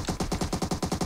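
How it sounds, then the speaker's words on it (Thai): Automatic gunfire in PUBG Mobile as shots hit a car, a rapid even burst of about ten close, punchy reports within one second. "ยิงรถทำไมวะ"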